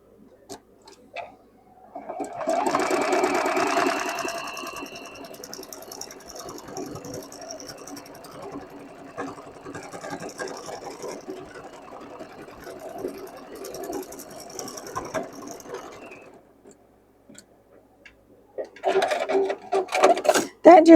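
A sewing machine stitches a wide zigzag buttonhole on a blue halter dress, running in a steady rapid whir for several seconds before slowing and stopping, then starting up again briefly near the end.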